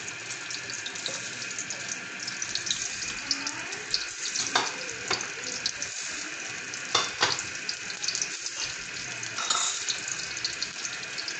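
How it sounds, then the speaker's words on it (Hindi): Two medium onions and garlic frying on a high flame for chow mein, a steady, faint sizzle with soft stirring clinks and scrapes, no voices. "करीबन 1 मिनट के लिए हम फ्राई करेंगे"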